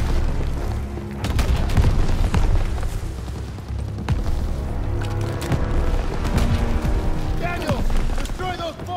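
Ammo boxes exploding in Call of Duty WWII, a dense run of booms and blasts with scattered gunfire and mechanical clatter, continuous and loud throughout.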